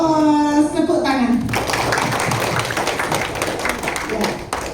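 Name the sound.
congregation clapping hands in church service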